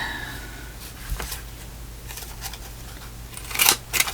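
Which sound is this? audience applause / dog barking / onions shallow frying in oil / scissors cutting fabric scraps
scissors cutting fabric scraps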